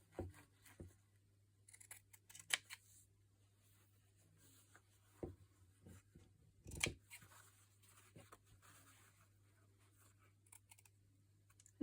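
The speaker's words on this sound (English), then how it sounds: "I'm going to cut the blue" Scissors snip through blue fabric in a quiet room, a few sharp close cuts scattered among soft rustling and light handling noises.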